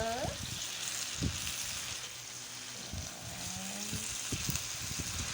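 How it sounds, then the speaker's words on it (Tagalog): A home-cooked Filipino ulam frying in a pan, stirred steadily with a utensil, giving a continuous sizzle with scraping knocks at intervals; low voices murmur in the background. "Haluin mo na ang ating ulam at baka matapon pa."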